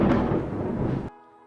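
Nearby thunder for a video game: a loud, low, roaring crack that rumbles on for about a second and then cuts off abruptly, leaving near silence.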